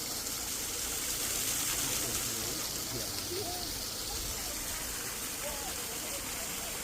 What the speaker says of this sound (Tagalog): Ano, may waterfall.